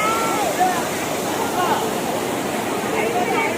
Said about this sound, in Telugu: నెక్స్ట్ అయితే చాప్రాయి వాటర్ ఫాల్స్ని విజిట్ చేసాము